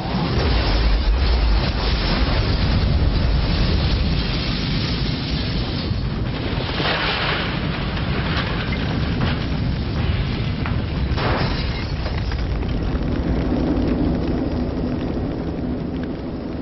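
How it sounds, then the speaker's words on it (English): A lightning-sparked gas explosion sets fire to an apartment house in Atlanta, a sustained loud roaring rumble with crackling and rushing noise throughout, surging at a few moments without clear separate blasts. "It was a lightning-sparked gas explosion that set fire to an apartment house in Atlanta"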